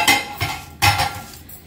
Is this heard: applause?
no